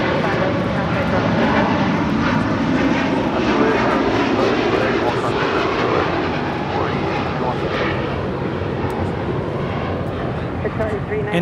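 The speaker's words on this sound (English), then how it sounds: "And now on short final is French B, flight 730, coming in from Paris Orly" French Bee airliner on short final approach into LAX, a loud continuous engine roar that fills the scene and eases slightly toward the end, with a voice speaking over it.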